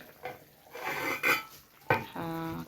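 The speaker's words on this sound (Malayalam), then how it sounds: "അപ്പോൾ നമ്മുടെ കറി എന്തായെന്നൊന്ന് തുറന്നു നോക്കാം" The metal lid of a pot of sardine curry cooked with mango clatters and scrapes as it is lifted, a few close clinks and a short rasp with no talking.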